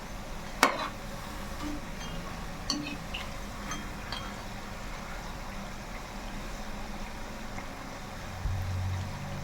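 Snacks fry in oil and are turned to cook evenly, producing a steady, even sizzling hiss at moderate level, broken by a few sharp clinks of a utensil against the pan.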